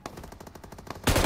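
Brief rapid automatic machine gun fire in PUBG Mobile, a steady rattle of shots at moderate volume, ending in a sudden louder close burst.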